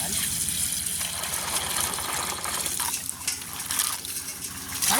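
Water is poured and splashes while washing in a village setting, a continuous gushing, sloshing wash with brief pauses and heavier bursts.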